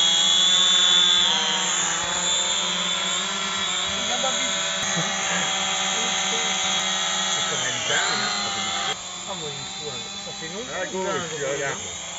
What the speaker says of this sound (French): Notre ami Pascal avec sa femme Sabine, il a un drone et on a attendu qu'il n'y a plus personne pour le faire fonctionner.